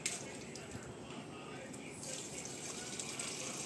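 Water is poured onto potted plants, including a tulsi plant, at home in the morning, making a steady, close splashing and trickling that runs throughout, with faint background voices.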